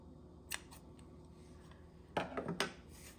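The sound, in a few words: scissors trimming the tied accordion label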